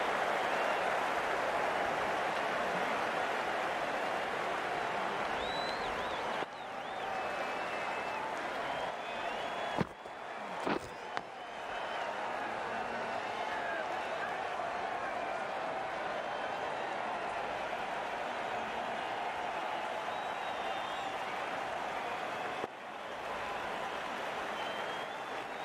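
A crowd at a NACO Chicago Bullmoose versus Miami Gators match applauds a shot with steady, distant clapping and cheering that runs throughout, with brief bumps and dips in level.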